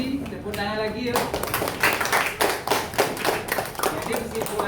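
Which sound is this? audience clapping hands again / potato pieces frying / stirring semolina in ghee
audience clapping hands again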